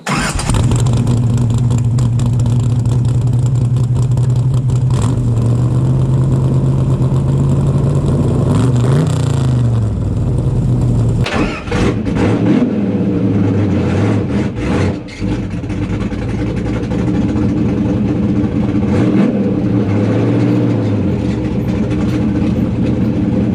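A loud Corvette C2 engine idles with a deep rumble, then revs repeatedly in sharp bursts, with a harsh, throaty side-pipe exhaust through 3-inch chambered mufflers.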